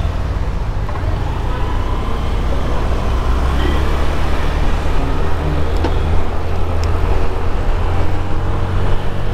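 Dense, steady roadway rumble while stuck in slow traffic, with engines idling and vehicles passing close by, a loud broadband drone with a couple of faint brief horn-like tones.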